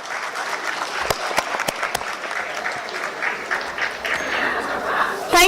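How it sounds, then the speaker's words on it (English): An audience at the National Tax Conference in Jaipur bursts into a big round of applause, dense sustained clapping filling the hall from start to finish. "Can I have a big round of applause?"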